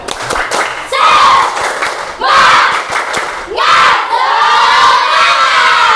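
Classroom students chanting loudly in unison, three rising group shouts punctuated by quick rhythmic claps and thumps, the last shout held longest, a dense and energetic crowd of young voices.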